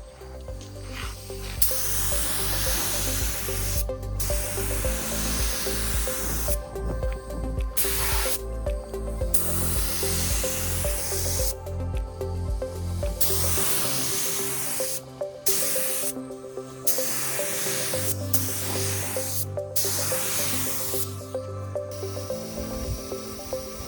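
A spray gun lays epoxy primer onto a Porsche 914 in long loud hissing passes, each broken by short gaps, with a steady low hum from the compressor underneath.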